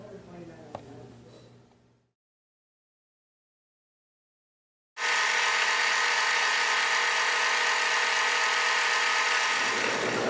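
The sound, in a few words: sewing machine sewing decorative stitches on quilt binding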